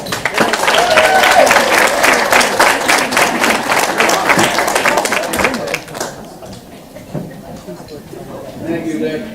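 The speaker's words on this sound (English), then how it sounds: "Better hold the applause till the end to see if you really think it's worth it." A room of diners at an alumni dinner breaks into loud, sustained applause that fades out after about six seconds, followed by quieter room noise and scattered voices.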